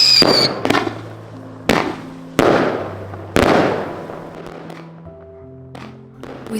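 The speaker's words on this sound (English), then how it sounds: "We celebrate this last day of the Chinese New Year holidays with the fireworks we had bought the previous week." Chinese New Year fireworks and firecrackers burst in several sharp, loud bangs, each followed by crackling decay, with quieter pops and a faint tonal whistle between blasts.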